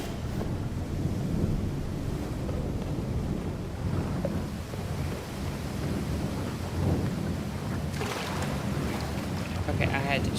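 In the video game Hob, a waterfall gives off a steady, broad rushing roar with no pauses. It swells slightly toward the end.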